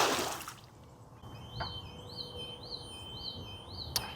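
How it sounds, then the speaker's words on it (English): A floating pool alarm rocked by waves in a swimming pool sounds a faint series of about five warbling electronic chirps in a steady rhythm over soft water lapping, with a couple of sharp clicks. "as soon as the waves hit, it rocks the little boat, setting off this alarm"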